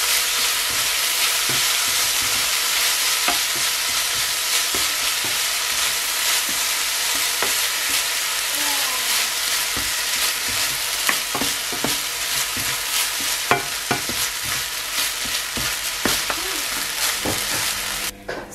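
Sauce hits fried tofu pockets in a hot pan and gets stirred through, giving a continuous loud sizzle broken by scraping, clicking utensil strokes; no voices.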